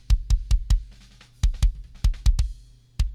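A kick drum from the mix, soloed through the inside kick mic with EQ cutting the low mids, plays around a dozen tight, punchy hits in a syncopated pattern. The hits are close and alone, with short gaps between groups.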